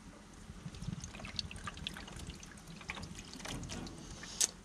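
A wine vinegar and garlic mop is poured from a can into a pan at a gas grill used as a smoker, a faint trickling pour with soft splashes and a small clink near the end.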